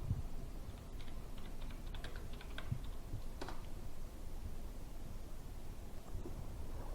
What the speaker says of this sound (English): To install a plugin, you need to search for it by typing the name of the plugin in the search box.